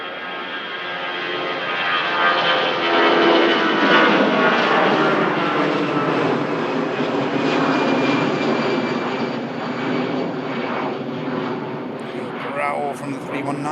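An Airbus A319 jet climbs out of Manchester after takeoff, a loud roaring engine rush that swells over the first few seconds, peaks, then slowly fades as the aircraft pulls away into the distance.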